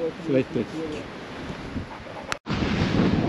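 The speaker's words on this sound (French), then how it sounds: "Il y a du vent." Gusty wind buffets the microphone in a continuous rumble while a person speaks briefly, cut by a short dropout before the wind roars on.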